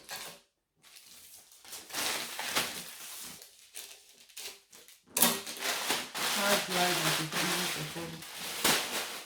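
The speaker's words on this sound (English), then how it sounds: "Let me cut it out." Scissors cutting out a paper sleeve pattern for a ruffled top, irregular snipping and paper rustling under frequent talk nearby.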